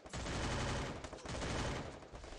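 Gunfire from a shooter video game rattles in loud, fast bursts that run almost the whole way through, dense and close, with no speech over it.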